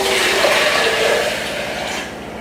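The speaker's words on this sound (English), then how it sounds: "for every 1 cup of seeds, then you want about 4 cups of spring water." Spring water pouring into a Vitamix blender jar, a loud continuous rushing splash that holds steady and then eases slightly toward the end.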